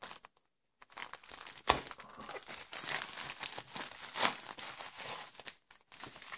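Plastic packaging bag holding a tablet case being opened by hand, with close, continuous crinkling and rustling broken by a few sharper tearing bursts.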